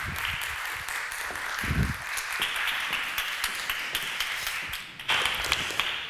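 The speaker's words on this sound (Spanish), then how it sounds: "Así que os dejo con él, un aplauso." Audience at a classical music talk claps for an introduced speaker, a sustained crisp patter of many hands with a few sharper claps standing out.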